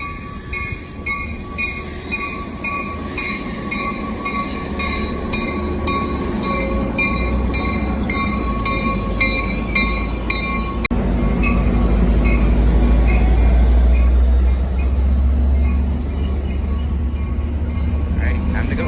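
A northbound express train rolls past, a loud continuous rumble of wheels on rails with metallic clinks and tonal squeals, swelling heavier toward the end.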